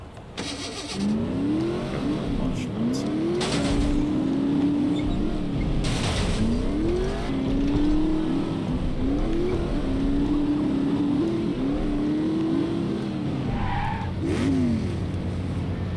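In the video game The Saboteur, a car's engine revs and climbs repeatedly as tires skid and squeal in rising sweeps, loud and continuous over a steady motor drone, with a few sharp impacts.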